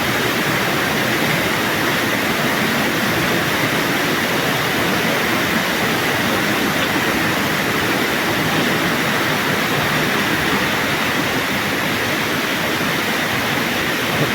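Chernigovka waterfall in Abkhazia pours in a constant, dense broadband roar that stays loud and unbroken throughout, with no voices heard.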